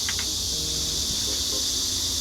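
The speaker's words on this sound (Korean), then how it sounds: "지금 매미 소리가 제 몫의 절반인 것 같은데" Cicadas drone in a steady, high buzzing chorus that fills the background without a break, fairly loud and constant, with faint other sounds beneath.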